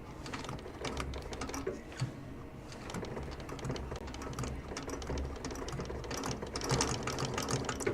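Sewing machine double-stitching a shoe, a quiet rapid mechanical clatter running in continuous bursts with short pauses, close and steady throughout.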